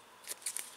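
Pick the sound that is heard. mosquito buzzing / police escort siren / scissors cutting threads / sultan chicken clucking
scissors cutting threads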